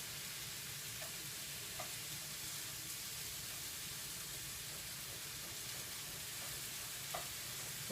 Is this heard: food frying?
yes